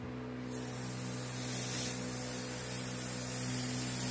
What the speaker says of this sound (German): wenn ich jetzt Druckluft hier reingebe